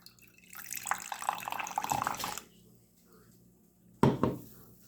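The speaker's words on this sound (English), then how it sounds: "Let's get the pour for you guys." Reign Storm energy drink poured from a can, a close splashing pour lasting a couple of seconds, then a pause and a brief second splash.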